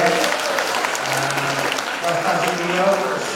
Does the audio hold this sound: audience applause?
yes